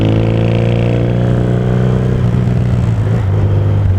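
A 1977 Yamaha XS650D motorcycle engine drones steadily and loudly while riding, a close, continuous throaty hum with no voices over it.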